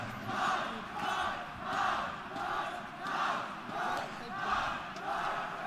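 A packed arena crowd at the ESL One Cologne 2017 esports final between SK Gaming and Cloud9 chants in steady, rhythmic waves, each surge roughly a second apart, loud and continuous throughout.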